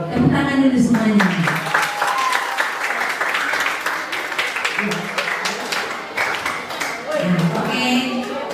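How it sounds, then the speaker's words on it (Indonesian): Children at an Easter celebration for a pre-teen church group clap together in steady, sustained applause, with voices and cheering mixed in throughout. "Oke, tepuk tangan dulu semuanya."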